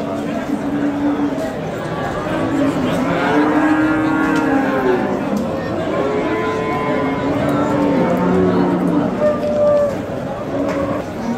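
Cattle low and moo repeatedly at a busy Friday livestock market in Pastdarg'om, Samarkand, where cows, calves and pregnant heifers are sold, with people talking throughout over the steady crowd noise.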